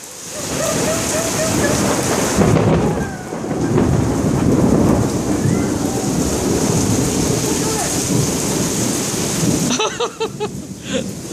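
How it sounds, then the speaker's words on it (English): Steady rain pours throughout with low thunder rumbling underneath, ending in a few sharper splashes and drips near the microphone. "Yeah, come in the rain here."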